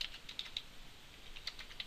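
Keys on a computer keyboard clatter in quick, light bursts, close and quiet, with no talking.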